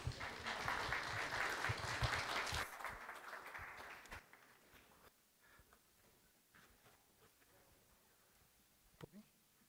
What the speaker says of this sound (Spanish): vamos a recibir por favor con fuertes aplausos